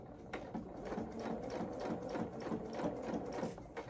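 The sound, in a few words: sewing machine stitching coveralls seam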